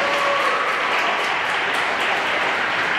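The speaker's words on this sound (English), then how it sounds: "Huge round of applause to both teams." Spectators at a youth AAA state hockey championship applaud both teams, a continuous broad wash of clapping and crowd noise in an arena, with no clear talk over it.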